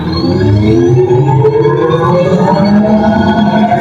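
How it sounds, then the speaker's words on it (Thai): A loud, sweeping electronic tone rises steadily in pitch like a sci-fi UFO effect, played through a Tesla electric car's speakers as the accelerator is pressed, over a low rumble. "เสียงที่สองนะครับมาฟังกัน UFO"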